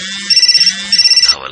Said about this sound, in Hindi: उसी वक्त दोनों का फोन एक साथ बजा